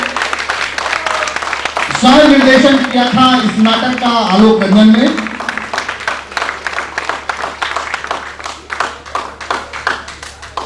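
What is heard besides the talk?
audience applause for the play's artists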